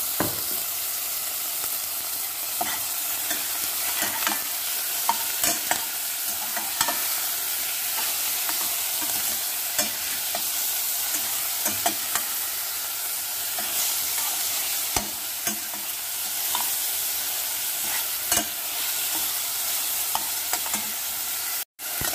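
Ground meat sautéing in a pan for a miswa noodle soup, a steady close sizzle broken by frequent sharp scrapes and clicks of a spatula stirring against the pan.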